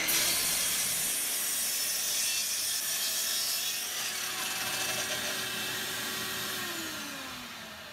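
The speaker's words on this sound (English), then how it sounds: "I'm going to cut all the pieces to the exact length on the chop saw." A chop saw cuts workbench pieces to exact length in the wood shop, a steady loud whine with hissing grind through the wood that slowly winds down in pitch near the end, with no voices.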